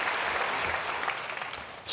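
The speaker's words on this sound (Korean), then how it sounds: "다시 한번 박수" A congregation at a church prayer service gives a short, dense burst of applause, even clapping that dips slightly before surging louder again at the very end.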